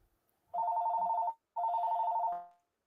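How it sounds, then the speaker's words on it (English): A telephone rings twice in a steady electronic trill, each burst about three-quarters of a second long with a brief gap between them, clear and close in an otherwise quiet room. "Whose phone's ringing?"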